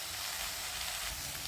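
Okra (ladies finger) fries in a pan with a dense, continuous sizzle, an even, close hiss of oil and moisture that holds steady with no talking.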